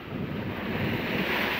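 Surging sea waves of a tidal flood (rob) on the north coast of Java wash in steadily with a broad, continuous roar, close and loud, with heavy wind buffeting the microphone throughout.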